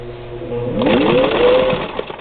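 A 1952 Singer 15-91 sewing machine stitches a dog leash, its motor whirring up to a steady fast run that rises in pitch, close and loud, with no voices.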